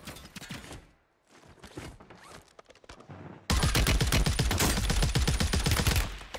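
Rapid bursts of gunfire in the Warzone video game, loud and close. Scattered shots come first, then a dense, sustained barrage takes over for the second half.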